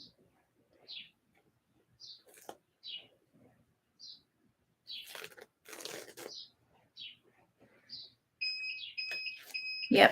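A heat press finishes heating and gives off a run of steady electronic beeps near the end. Brief chirps come before it in a fairly quiet room.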